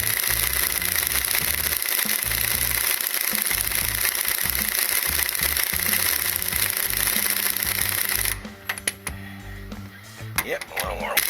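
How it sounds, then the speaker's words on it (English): An impact wrench runs up a bolt while a Corvette spring is fitted, a loud, steady mechanical rattle and buzz close by for several seconds, then stopping into quieter clinks as someone talks. "then I'll just run it up with the impact"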